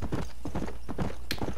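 Close, rhythmic clip-clop of horse hooves as a horse is ridden in Red Dead Redemption, steady galloping beats with a brief whinny-like burst partway through.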